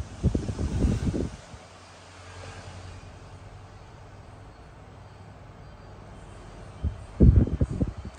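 A cast-iron electric fan with a 30 cm blade sweep runs on speed 3, giving a steady, strong airy whoosh with a low hum, framed by bursts of close handling bumps and buffeting at the start and end.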